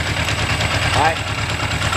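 A carbureted engine idling at 1,000 rpm with a steady low rumble and regular pulsing, under a voice talking close by.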